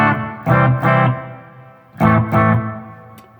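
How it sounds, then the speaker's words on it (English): Electric guitar through a Fender Champion 100 amp with a hall reverb pedal, filter on: two pairs of strummed chords ring out, each decaying into a lush, washy reverb tail, loud and clear with no voices. "So right now I'm using a Hall on setting 1 with the filter turned on"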